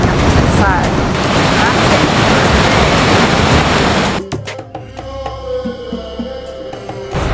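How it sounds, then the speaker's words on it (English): Broad, steady roar of a large waterfall with spray rising, heavy wind-buffeted rushing for about four seconds before dropping abruptly to a quieter, thinner background. "We've been wanting to come to these waterfalls forever and ever."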